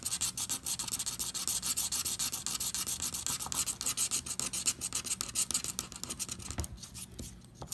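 A coin scratches the latex off a $5 Texas Lottery Super Cashword scratch-off ticket, a close, loud, steady run of rapid rasping strokes that slows and breaks up near the end.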